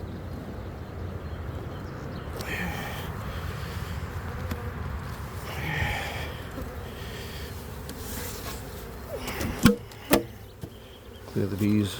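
Honey bees hum in a low, continuous buzz close by during a hive inspection, while quiet voices talk now and then and a few knocks and scrapes sound near the end.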